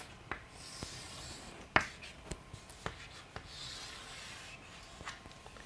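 Pen or marker writing on a board while a graph of lines parallel to the x- and y-axes is drawn in a math lesson, with scratchy strokes and several sharp taps and clicks at close range, no talking.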